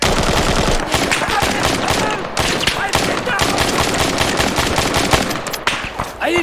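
Heavy automatic gunfire from an Arma 3 story campaign firefight, dense continuous bursts of rapid shots filling the whole stretch at close range, with faint voices mixed in beneath.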